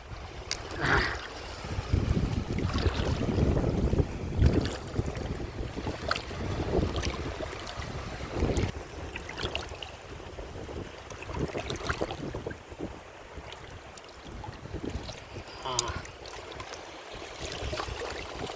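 Sea waves rolling and crashing onto a shoreline during crab fishing, with steady rough surf and gusty wind over the whole stretch, several heavier surges breaking up close and loud, no voices.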